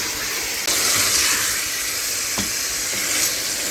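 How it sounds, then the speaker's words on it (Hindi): Chicken feet frying with a spice mix in a pan for a curry, a steady loud sizzle with a few soft stirring knocks and no talk. "सही मसाला मिक्स करके अच्छा सा भूनना है इनको।"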